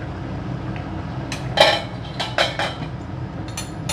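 A utensil stirs hilsa fish curry in a pan with raw mustard oil over a lowered flame, then the pan is covered, giving a few sharp metallic clinks and clanks, mostly in a cluster in the middle, close and fairly loud.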